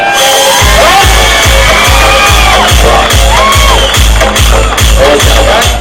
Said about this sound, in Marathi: जरा जोरात टाळ्या होत्या.